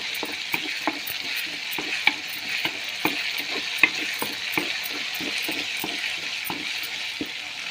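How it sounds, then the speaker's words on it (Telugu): Ginger frying in a tempering in a pan, a steady sizzle under regular scraping strokes of a spoon stirring roughly every half second, close and clear without talk. "ఈ పోపు అది బాగా వేగిన తర్వాత ఈ అల్లం వేగితే మంచి వాసన వస్తుందండి."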